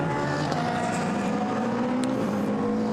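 GT race car at Monza on a flying lap during free practice, its engine droning steadily with a rising pitch as it comes back onto the power after a chicane, loud and continuous throughout.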